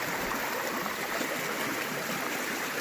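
A forest waterfall rushes in a loud, continuous broadband roar that fills the whole stretch without pause, steady and close, with no voices.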